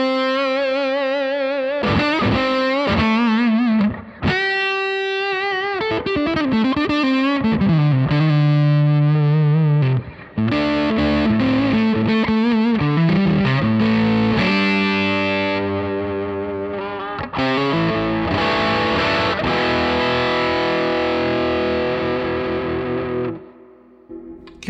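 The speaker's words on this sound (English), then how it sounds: "It's got a little Firebird pickup in the neck, which I really dig, and I'm gonna show you that in just a second" An electric guitar, a Michael Tuttle 60s T-style with a Firebird pickup in the neck position, plays a run of sustained, distorted melodic notes with effects, bends and chords for about twenty-five seconds. It is loud and stands alone, with no talking.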